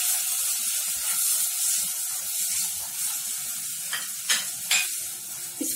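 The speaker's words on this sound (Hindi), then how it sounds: "इसको इसमें थोड़ी देर फ्राई होने देंगे" Vermicelli fries in melted butter, a steady soft sizzle with spoon stirring and a couple of sharper scraping clicks near the end, close and with no voices.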